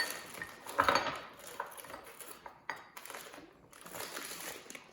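Hard frozen mango chunks and strawberries rattle and clink into a measuring cup at close range, with a burst of clattering and a few scattered knocks, fairly quiet.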